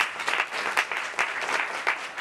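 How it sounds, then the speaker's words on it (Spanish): An audience at an academic presentation breaks into applause, with a moderately sized crowd clapping steadily and fairly close. Sharper individual claps stand out now and then across the two seconds. "pues Jesús Tudela, un aplauso también para él."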